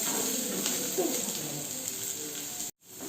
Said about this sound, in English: as the green chilli is getting tossed